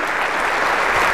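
Brief burst of applause at a community breakfast fundraiser, a dense uniform roar of many hands clapping together, loud and continuous with no pauses.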